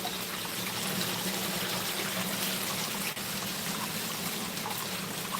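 Water runs steadily from a hose into a newly built garden pond, a constant close gushing trickle that holds without pause.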